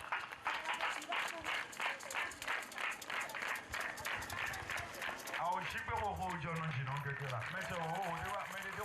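A church congregation at a Thursday evening worship service applauds and cheers in a steady, dense roar of clapping that lasts throughout, with a voice speaking over it in the second half.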